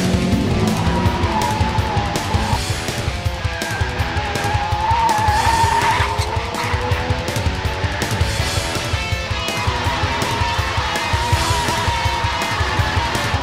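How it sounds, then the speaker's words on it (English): Nissan 350Z fitted with a Bassani exhaust drifting, engine roaring steadily with tire squeal rising and falling throughout, loud and close with no talking. "The improved mid-range power and torque has increased our Z's consistency while drifting."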